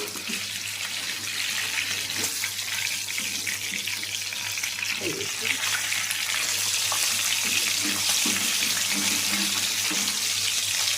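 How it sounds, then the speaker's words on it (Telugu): Fish frying in a kadai over a low flame, a steady soft sizzle and bubbling of oil that continues evenly throughout. "లో ఫ్లేమ్లో పెట్టి వేయించుకోవాలి అప్పుడు చేప మనకి చక్కగా ఫ్రై అవుతుంది"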